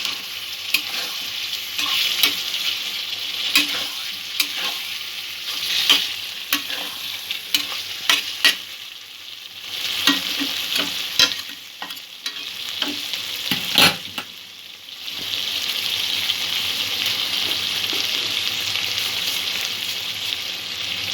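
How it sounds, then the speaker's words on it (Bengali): Spinach and potato curry being stirred in a hot pan: repeated close scraping strokes of a spoon over a continuous sizzle, easing into a steadier fry toward the end. "ভালো করে আবারও মিক্স করব।"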